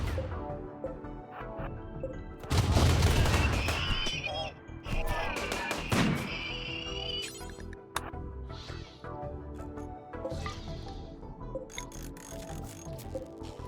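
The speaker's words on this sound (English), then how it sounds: "How about I just turn the turrets on? That'll kill them real quick." Automated turrets in RimWorld fire at enemies in loud, crackling bursts early on, followed by scattered sharper shots and squeaks. A voice talks intermittently.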